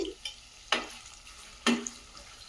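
Whole spices, two bay leaves, an inch of cinnamon and three cardamom pods, go into a pan with onions for paneer lababdar, making soft frying sizzle broken by three sharp stirring scrapes.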